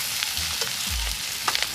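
Dried chilli, bay leaf, onion, garlic and green chilli sizzle in hot oil at an outdoor picnic cooking spot, a steady close frying hiss with brief stirring scrapes.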